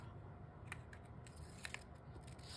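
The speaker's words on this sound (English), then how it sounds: "We can always cut that off a little more." Scissors cutting paper during a craft tag project: faint, quiet crisp snips scattered over a low hum, close by, with no talking.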